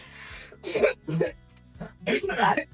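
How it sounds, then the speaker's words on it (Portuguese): Several throaty coughs and rough throat-clearing sounds, close up, in uneven bursts over a low background hum. "deixa eu tossir, vai."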